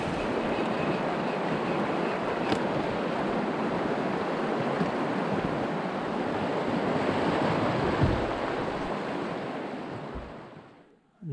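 Rushing water from a river rapid on a remote, log-jammed river, a steady broadband roar that holds close and loud throughout, with no voices, before cutting off abruptly at the very end.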